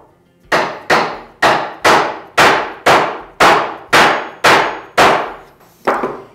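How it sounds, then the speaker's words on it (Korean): A hammer strikes a wooden dovetail joint cut with a jig, driving it together: ten loud, close knocks at an even, steady pace, each ringing briefly, the last one softer. "나머지 부분은 제가 망치를 사용해서 집어넣도록 하겠습니다."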